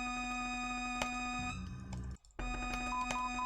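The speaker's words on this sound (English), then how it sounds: "That's the notification that I am supposed to skip." A notification tone sounds in the Riven video game, a steady electronic ringing over a tonal hum that drops out briefly near the middle and then returns.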